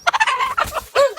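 A hen clucks up close in a rapid series of loud, throaty calls, some short and choppy, others drawn out, with no talking over them.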